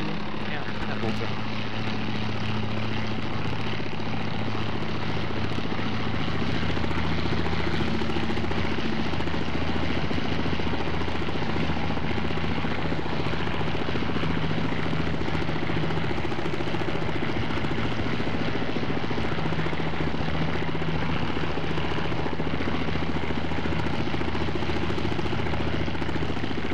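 A Bell AH-1Z Viper attack helicopter in the FSX flight simulator, a steady loud engine and rotor drone with a constant hum and no pauses, filling the whole stretch.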